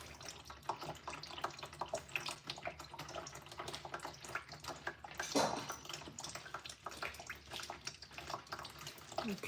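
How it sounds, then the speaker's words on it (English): Coolant drains out of a Ford Fusion Hybrid during a transmission job, a steady trickling, splashing stream like a running tap. Faint clinks and handling noises sit under the flow, and no voices are heard. "this is the coolant draining out, so we'll just let this go"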